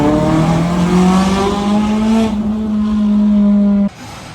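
A loud, janky exhaust on a Nissan 240sx with an SR20DET engine drones up close in a steady, buzzy tone that rises slightly in pitch, then cuts off abruptly near the end.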